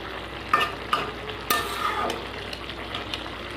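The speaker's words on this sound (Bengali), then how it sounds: "ঢাকাটা খুলে একটু নাড়িয়ে নেব।" Long beans (barbati) being stirred in a pan, giving a low sizzle broken by a few distinct scraping and clinking strokes, close up and without speech.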